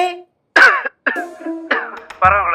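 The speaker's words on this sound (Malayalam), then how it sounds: "വൈകിടെ ഭയങ്കര ചുമ" A person coughs and clears their throat, four short, loud, rough bursts close by, separated by brief pauses.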